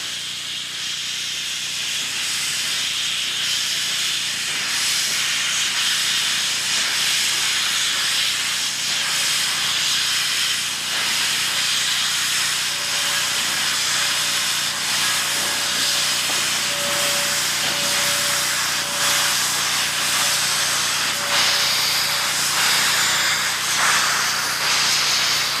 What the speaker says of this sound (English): this massive Class A locomotive exhausts a huge plume of steam and smoke